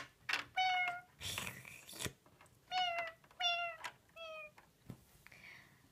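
A cat meows repeatedly in short, plaintive calls, about half a dozen spaced irregularly over several seconds, close and clear, with a few brief rustling noises between them.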